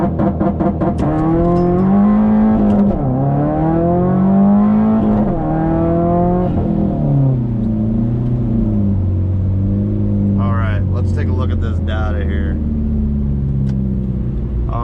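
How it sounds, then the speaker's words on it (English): A Subaru STI, run in track mode for a 0 to 60 launch, gives a close, loud engine roar that climbs in pitch through repeated rev sweeps and gear changes, then settles to a lower steady drone, with brief voices near the end. "do a 0 to 60 time here and see how accurate it is"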